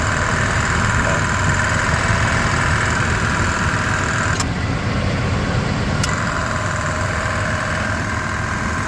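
A 1984 Chevrolet square body truck with a factory 305 V8 idles steadily close by, a constant low engine rumble with the air conditioning running, broken by two faint clicks.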